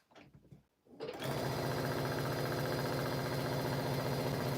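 A sewing machine stitches a seam across a quilt, starting after a second of soft handling noises and then running at a steady, fast, loud mechanical rhythm until the end.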